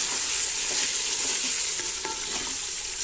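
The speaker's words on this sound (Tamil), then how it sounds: "ஆட் பண்ணிவிட்டு இதையும் நல்லா வதக்கி விட்டுடலாம்." Mutton sautéing in a pan with masala and rock salt for biryani gives a steady, close sizzle, with soft scraping and clicking from stirring throughout.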